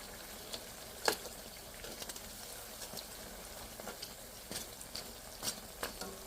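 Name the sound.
frying jilapi in oil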